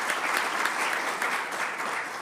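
Audience applause at a business event about investing in Venice, a steady dense clapping that stays at an even level throughout, with no voices over it.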